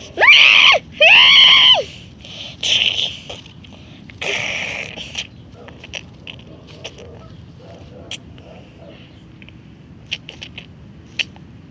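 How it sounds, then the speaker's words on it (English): Two sharp, high-pitched screams ring out at the start, followed by a couple of shorter shrieks, then scattered clicks and taps in a quiet room. "The screaming attracts a Megaraptor."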